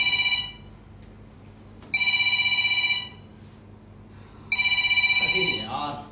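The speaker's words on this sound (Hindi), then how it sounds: "जब मैं इसका फोन नहीं उठा रहा हूं तो क्यों फोन कर रही है?" Incoming call on a phone: three bursts of an electronic ringtone with pauses between, clear and close, with faint voices near the end.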